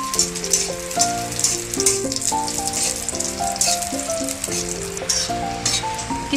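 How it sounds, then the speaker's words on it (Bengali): Raisins and cashews frying in hot ghee in a wok, a continuous crackling sizzle with dense popping under background music, with no talking. "ঘিটা গরম হয়ে গেছে, এখন আমি এর মধ্যে কিশমিশ আর কাজুটা"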